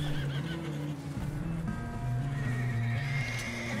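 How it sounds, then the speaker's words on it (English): A horse in the video game Red Dead Redemption 2 gives a loud, close neigh, its whinny wavering over a few seconds above soft clip-clopping hooves and low background tones. "The horses seem agitated."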